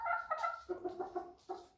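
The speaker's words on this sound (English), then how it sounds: "now they are kind of these lovely mature chickens" Mature backyard chickens about 160 days old, including laying hens, give a series of close, clear clucks and short calls in uneven bursts, with no one talking.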